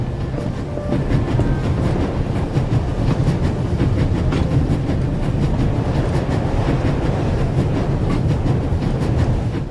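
A train racing at full speed in the video game The Raven, with a loud, steady rumble and rhythmic clickety-clack of wheels on rails continuing throughout, no voices.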